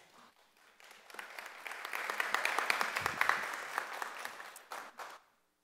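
Audience applause in a commission meeting room, clapping that swells from a few hands into a full round, peaks, then tapers off and stops abruptly.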